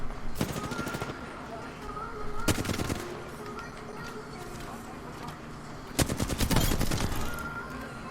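Bursts of automatic gunfire from an Xbox shooter game crackle in three rapid volleys, separated by pauses with low background game noise and a player's voice talking.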